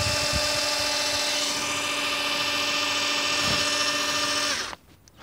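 Cordless drill running continuously at high speed, a loud steady whine with strong harmonic tones that cuts off abruptly near the end, during fuel filter and fuel pump replacement on a Honda Jazz II.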